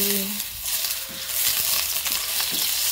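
Shallots and onion sautéing in a pan for an okra and minced beef dish, a loud continuous close sizzle with a few soft stirring scrapes.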